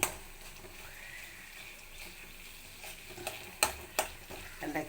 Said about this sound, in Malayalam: ഇങ്ങനെ ഉടക്കണം കേട്ടോ നല്ലോണം.